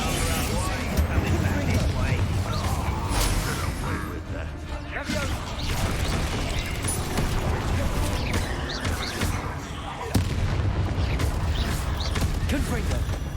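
Spell-casting combat in Hogwarts Legacy produces dense, continuous magical bursts, whooshes, crashes and creaking mechanisms. A voice is also heard in the mix.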